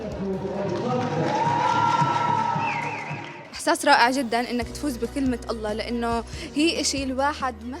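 A crowd applauds and cheers as the names of three contest winners are announced, and after a few seconds the clapping gives way to a speaking voice over scattered crowd noise.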